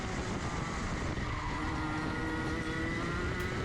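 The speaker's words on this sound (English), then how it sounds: "Managed to go through that chicane really speedily, and we're going to get the slipstream right up to the hairpin" A junior Rotax racing kart drives hard through the chicane at Mansell Raceway, its engine giving a continuous buzzing drone with tire scrub, heard up close from on board without any talk.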